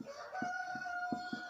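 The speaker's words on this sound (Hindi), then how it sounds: "मुर्गा बोल रहा है, सुबह हुआ है" A rooster crows in the morning, faint and somewhat distant, its drawn-out call heard alongside a few soft low clucks from nearby fowl.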